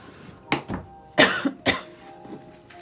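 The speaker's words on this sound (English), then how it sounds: "Got a little bit of a lingering cough." Several close, sharp coughs come in quick bursts, with short pauses between them in an otherwise quiet room.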